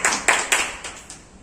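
A handful of claps at a school parents' meeting for the manager: about five separate sharp hand claps, fairly close, fading off quickly.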